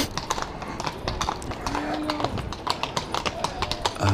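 Speckled horse walking close by, hooves clip-clopping in a steady rhythm with a brief low tonal sound in the middle, against outdoor background noise.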